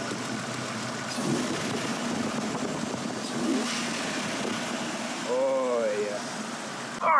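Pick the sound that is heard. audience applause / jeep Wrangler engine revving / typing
jeep Wrangler engine revving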